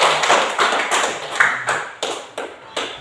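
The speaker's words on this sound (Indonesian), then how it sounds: "Mari kita tepuk tangan untuk kelompok C" A classroom of pupils claps together for a group, delivering several rhythmic bursts of hand claps in regular waves that rise and fade, close and fairly loud, with no talking.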